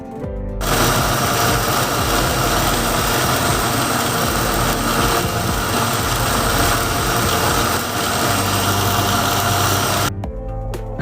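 A kitchen mixer grinder blends fruit with water for sherbet, a loud, steady whirring roar running continuously for about ten seconds before cutting off.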